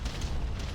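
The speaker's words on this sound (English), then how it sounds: "Beginning barrage." Short burst of artillery barrage in the strategy game Ground Control, a dense low rumble of overlapping booming explosions lasting under a second.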